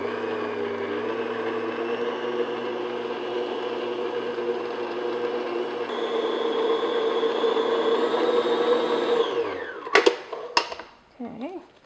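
An electric mixer creams butter and sugar for cupcakes with a steady, droning motor whine that rises in pitch partway through, then cuts off, followed by a few brief clatters.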